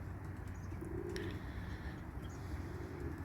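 Tumbler pigeons coo softly in low, rolling calls, a couple of coos repeating over a steady background hum.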